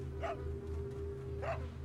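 A dog in the video game Resident Evil 4 barks twice, about a second apart, clear and close over a steady low game ambience with a constant hum.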